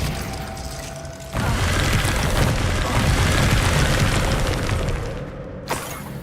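A Glacius ice spell cast in Hogwarts Legacy: a loud, broad whooshing roar surges in suddenly, holds steady for several seconds, then cuts off, with a brief thud near the end.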